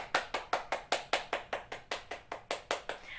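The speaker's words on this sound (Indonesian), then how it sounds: "kita berikan tepuk tangan untuk kelompok 2" A classroom group claps for a student presentation in a slow, unified rhythm, about fifteen sharp, even hand claps in steady succession, close and clear with no talk over them.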